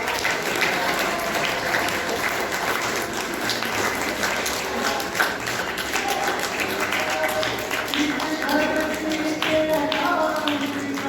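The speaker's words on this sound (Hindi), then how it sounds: "आप ताली बजाओ।" An audience at a Brahma Kumaris Diwali celebration in Saharanpur claps hands in a steady, crowded patter, moderately loud and continuous, with voices audible beneath the clapping.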